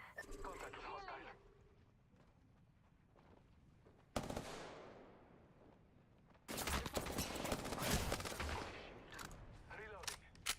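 Video game gunfire comes in heavy, rapid automatic bursts. A sudden loud volley is followed by a long sustained stretch of shooting, and voices talk over quieter moments between bursts.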